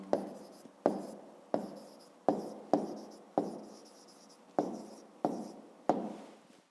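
A pen scratches on paper while a number is written out for a maths exercise: about nine short, crisp strokes in a loose rhythm, close and quiet, with no voices.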